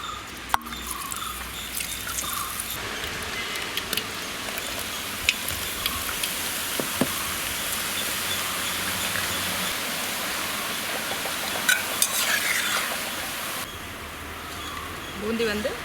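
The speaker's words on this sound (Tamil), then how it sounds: "நீ வந்து பூந்தி ஃப்ரை பண்ணி எடுத்துடலாம்" Boondi frying in hot oil for a street-food style mixture, a steady dense hiss and bubbling crackle that runs unbroken throughout with a few sharper pops.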